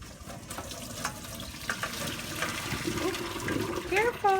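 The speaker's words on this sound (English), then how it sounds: "My dad is grabbing the strainer that we're going to use to drain our pasta." Hot pasta water is poured through a strainer to drain it, making a steady rushing splash into a sink. Light clatter can be heard, and a few short squeaky tones come in near the end.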